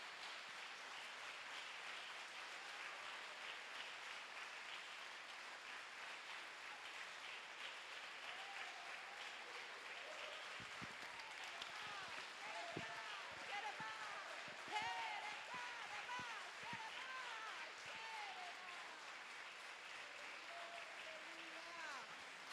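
A church congregation claps through a morning worship service, a fairly faint, continuous patter of many hands, while a voice and some louder individual claps stand out over it partway through.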